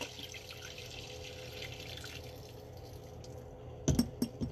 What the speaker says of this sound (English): I'm just gonna nicely drain the water by just pouring it into the